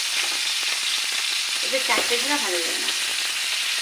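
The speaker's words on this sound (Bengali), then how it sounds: "মাছটা ভাজি করে নিয়ে পরে আলুটা ভাজি করবো" Fish fries in a pan with steady, loud sizzling and crackling throughout, plus a few brief stirring scrapes midway, with no talk.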